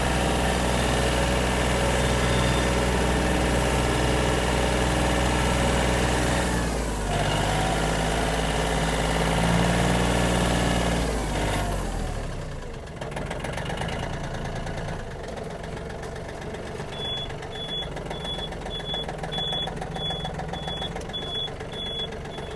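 A Yanmar AF-26 Japanese mini tractor's small engine chugs steadily at close range, with a brief dip in the middle before settling back into a quieter idle.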